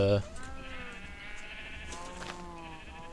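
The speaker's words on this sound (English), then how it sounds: "So yeah, there is the full rainbow of sheep." Sheep in the Minecraft video game bleat in several wavering calls, one near the start and more around the middle and end, moderately loud over a quiet background.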